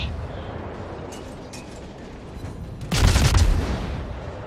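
Khabarovsk warship guns in World of Warships fire with faint distant reports, then a single heavy, booming salvo lands loud and close near the end, rumbling briefly afterward.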